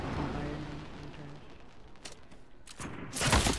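A sniper shot in the video game Fortnite, a sharp crack followed by a loud burst near the end, over a steady game background with faint chatter.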